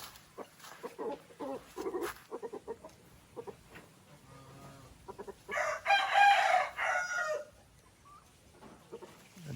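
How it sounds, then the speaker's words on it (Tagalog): Rooster on a farm crowing one long, loud call near the middle, preceded by scattered clucks and other fowl noises, close by with no speech. "Ito yung isang manok."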